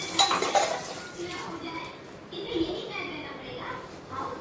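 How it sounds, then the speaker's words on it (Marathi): Dishes and pots being washed and scrubbed at a kitchen sink, with close clattering and clinking of pans and cutlery and scraping scrubs, while people talk nearby. "नीटपणे सगळे भांडे घासतोय"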